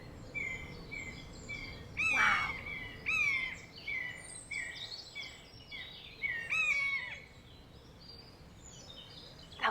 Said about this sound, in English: that's a very close buzzard